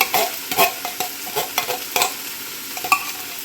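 Palabok sauce with cream of mushroom being stirred in a hot pan, a steady soft sizzle broken by repeated scraping and clattering strokes of the spoon at an uneven rhythm, close and clear.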